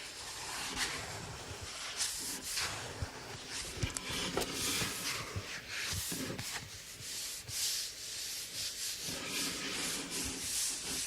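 Steady, continuous scratching and rubbing close by, coarse and dry, with no one talking.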